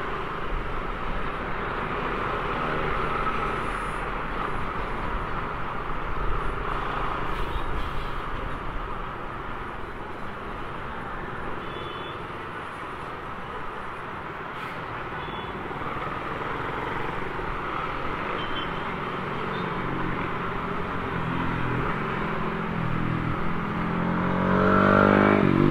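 Dense road traffic with a steady, continuous rumble of car and motorcycle engines, some revving nearby, with no voices and a rise in loudness toward the end.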